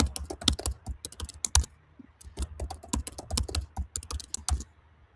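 Someone types credentials and a password on a computer keyboard, a quick run of close, crisp keystrokes in irregular bursts with brief pauses between them, alone with no talk.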